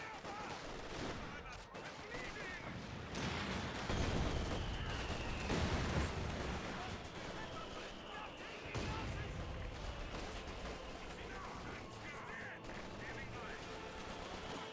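Sustained gunfire and mortar fire rumble through a Company of Heroes 2 battle, dense overlapping bursts with a few louder booms, while a caster talks over the action throughout.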